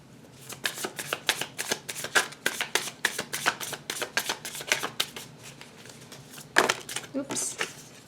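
Tarot cards are shuffled by hand in a long run of quick, crisp riffling flicks close up, followed by a few louder slaps as cards are drawn and set down.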